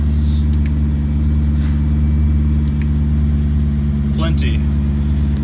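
A car engine, likely a BMW E39 M5, idles loud and steady with a low, even drone and a faint regular lifter ticking, and a brief rising squeal near the end.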